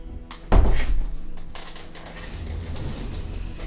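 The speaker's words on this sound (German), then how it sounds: "ich muss aber kurz die Tür zumachen" A single solid thud as a door shuts nearby, followed by faint rustling and low room noise.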